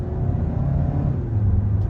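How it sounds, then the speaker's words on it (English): Turbocharged engine of a 2021 Kia K5 GT-Line pulling under half throttle, heard from inside the car as a steady, close low rumble and whir that holds a constant level, with no voices. "just stepping on the gas about halfway, these turbocharged engines, once those turbos spool up, they really pull"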